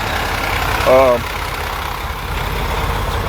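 A truck called Big Blue idling in the background, a steady low engine rumble running throughout, with a voice heard briefly over it.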